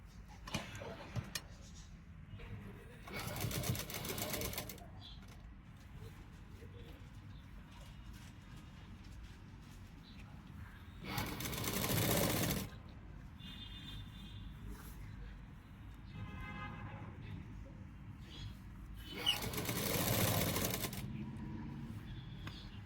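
A sewing machine stitches a 12-inch neckline in three short bursts of rapid whirring, separated by quiet pauses with faint handling of fabric.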